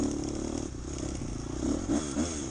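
A dirt bike engine revving on a hare scramble trail through hardwood hills, close and loud, with a steady throttled drone and several short revs toward the end, alone without talk.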